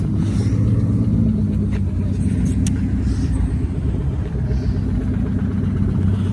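Turbocharged Kia Stinger engine at a drag race on street lanes, heard as a steady, loud low rumble and drone over constant outdoor noise, with no clear separate speech.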